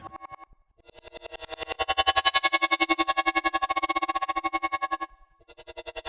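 An audio sample is sliced by a chopper effect in Ableton with a changed chopper shape, giving rapid regular pulsing that swells louder through the middle, then cuts off and resumes.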